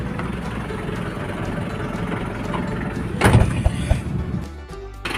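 Nissan Big-M pickup's BD25 diesel engine idling with a steady, close low rumble, interrupted midway by a brief louder clunk and a few knocks before settling back to the even idle.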